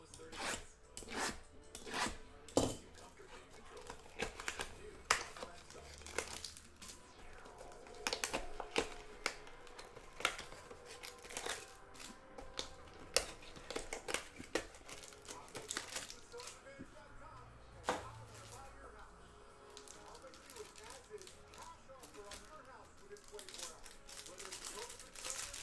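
Panini Absolute football card packs are cut and crinkled open up close, with scattered sharp snips, rustling foil and rubbing sounds while a person speaks quietly at times.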